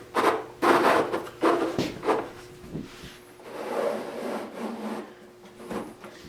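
An ungreased wooden tambour door on a display cabinet slides stiffly along its groove. Close, dry rubbing strokes repeat several times, alternating with softer, slower scraping passes.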